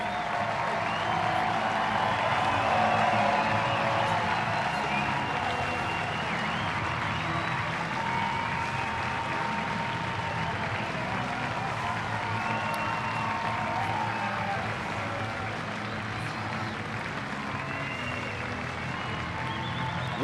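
A baseball crowd at a Tulsa vs Springfield game applauds and cheers a pitcher's standout performance, a sustained wash of clapping and shouts from a distant stand with no talk over it.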